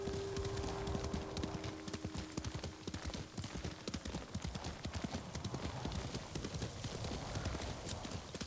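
Steady clip-clop of horse hooves from the Ghost of Tsushima video game, a continuous rhythmic run of hoofbeats with a brief whinny near the start and a faint tone underneath.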